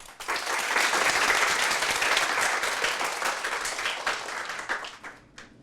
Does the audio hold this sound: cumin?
no